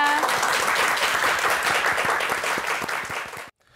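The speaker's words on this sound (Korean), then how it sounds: "오늘 함께해 주신 방송인 이삼백 선생님께 박수 한번 부탁드리겠습니다." Studio audience applause on a Korean morning talk show, a dense, steady round of clapping close up that cuts off abruptly near the end.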